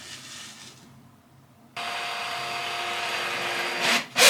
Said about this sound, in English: I've got my drill and I've got these screws. Just gonna screw these